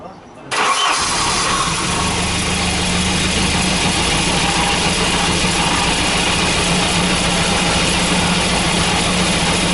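A Volvo 240/740/940 with a fuel pressure regulator fault starts up and settles into a rough, steady idle, loud and close, the engine drone continuous for nearly ten seconds.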